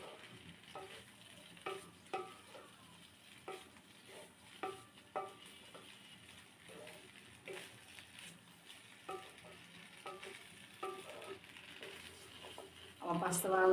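Pasta with vegetables is stirred in a pan for a children's snack, giving a rhythmic series of soft scraping strokes about once a second over a faint sizzle, ending in a louder clatter.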